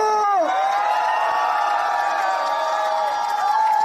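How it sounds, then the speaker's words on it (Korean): A crowd at an outdoor political election rally cheers and shouts loudly throughout, with tonal voices and chanting rising over the roar, close and sustained. "여러분, 우리 이재명 대표님과 박수현 후보님께 뜨거운 함성과 박수를 함께 해주십시오"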